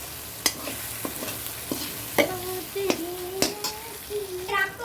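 A spatula scrapes and knocks against a pan as masala sautés in hot oil, several distinct scraping strokes over a soft, steady sizzle, close and fairly loud, with no talking.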